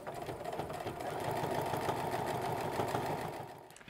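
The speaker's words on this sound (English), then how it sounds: "So I'm going to need to backstitch to start." A sewing machine runs steadily with a fast, even mechanical whir while backstitching an apron strap, close and alone, swelling slightly mid-run before winding down.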